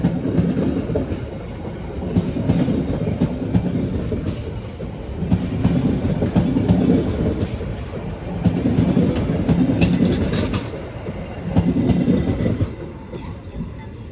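Logawa passenger train of economy, premium and executive cars rolling past near Lempuyangan station in Java, a loud, steady rumble with rhythmic clickety-clack wheel beats swelling and easing across the whole pass.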